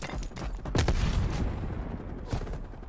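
MP5 submachine gun fire in a first-person shooter video game, heard as dense overlapping bursts of shots with a sharp crack near the start and another burst later, loud against busy game noise.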